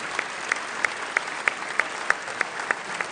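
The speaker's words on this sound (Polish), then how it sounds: "Nagrodźmy ich gorącymi oklaskami." Warm applause fills the Polish parliament chamber, a dense, even wash of many hands clapping, with faint rhythmic accents coming through roughly every third of a second.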